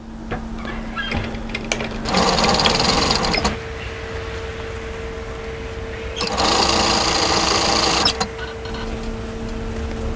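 A sewing machine stitches a raglan hoodie seam in two steady bursts of rapid running, loud and close, separated by quieter pauses with a low motor hum.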